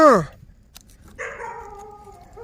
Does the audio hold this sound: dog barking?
yes